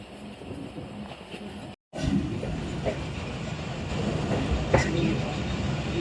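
The Shalimar Express rolls along a curved line at reduced speed, giving a loud continuous rumble of wheels and carriages, broken by a brief gap and a few louder clanks, heard from on board under someone talking.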